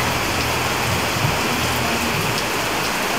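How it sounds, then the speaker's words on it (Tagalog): Heavy evening rain pours down in a steady, loud, unbroken hiss that fills the whole stretch with no voices. "ang lakas ng ulan"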